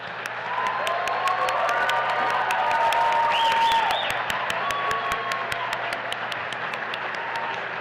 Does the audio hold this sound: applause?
yes